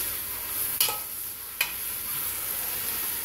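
Ground meat for chili cooking in a frying pan, a steady close sizzle broken by two sharp scrapes of a spoon against the pan.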